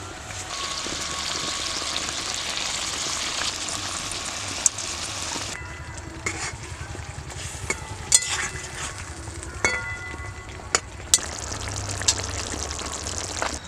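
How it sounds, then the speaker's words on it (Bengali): Fried rohu fish pieces go into simmering gravy for Bengali fish kalia, giving a steady, broad sizzle and bubble throughout, with occasional sharp clinks of a utensil against the pan. "আমি এতে ভাজা ভাজা মাছগুলো দিয়ে দিচ্ছি"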